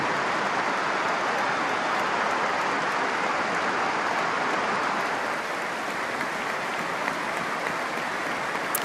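Steady, dense applause from a large football crowd, continuous and even throughout with no voices standing out.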